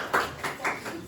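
A few students clapping in a classroom: three separate, fairly faint claps or short bursts of clapping, spaced unevenly over about a second, with no other sound.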